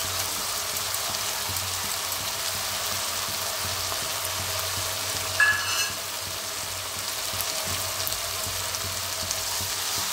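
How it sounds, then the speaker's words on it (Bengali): Coconut paste cooks with chopped banana flower in a pan for a Bengali mochar ghonto. It gives an even, close sizzle and crackle throughout, with one brief scrape of stirring partway through and no talking. "এবার আমি এই নারকেল বাটাটা দিয়ে দিচ্ছি।"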